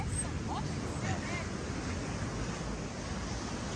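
Ocean surf at Cepilho beach in Trindade, Brazil, washes in as a steady close roar mixed with wind buffeting the microphone.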